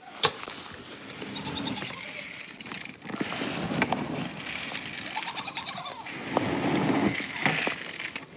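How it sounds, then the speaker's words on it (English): A goat on a home goat farm screams in high-pitched bleats from behind a door, repeated cries rising over the barn's background noise. "You hear that high-pitched scream right behind the door."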